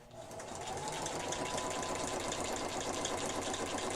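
A sewing machine runs steadily nearby, a continuous fast mechanical whir with a rapid stitching rattle that holds at an even level throughout.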